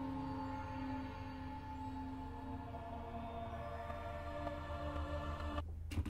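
A looping music track built in FMOD, with the tail of the loop copied onto another track at the start, plays steadily with sustained tonal layers and a low pulsing beat, then cuts off abruptly near the end.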